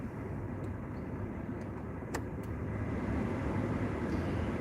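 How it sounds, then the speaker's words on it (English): A car engine idling as it warms up, with a steady low rumble heard from inside the vehicle and a few faint clicks over it. "I'll sit here and let my car warm up for a minute."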